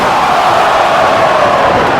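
Arena crowd roaring steadily and loudly as a pro wrestler lands a swanton bomb from the top rope at an indie wrestling show, a dense wash of cheering with no distinct impact standing out.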